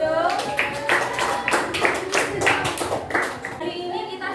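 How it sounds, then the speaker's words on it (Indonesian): A classroom of students claps for a student group, a dense burst of overlapping hand claps that rises and thins over several seconds, with a few children's voices mixed in. "beri tepuk tangan kelompoknya Mas Enzo"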